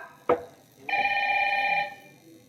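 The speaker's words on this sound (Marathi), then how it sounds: "केव्हापासून फोन वाजतोय?" A telephone rings once, a single close, steady electronic tone lasting about a second after a brief knock, heard alone in a quiet room.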